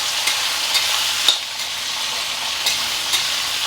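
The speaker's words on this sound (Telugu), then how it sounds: "అల్లం వేస్తున్నాను, కరివేపాకు, ఉల్లిపాయ, ఇవన్నీ వేయించుకుంటున్నాయి" Ginger, curry leaves and onion fry in a pan with a steady bright sizzle, a few soft stirring clicks standing out above the continuous hiss.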